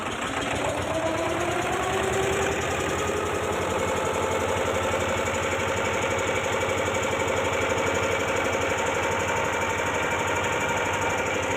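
A boat engine drones steadily as the boat pulls away on the water near Mayapur, Kolkata, a constant mid-pitched rumble with a faint rising whine early on and no talk.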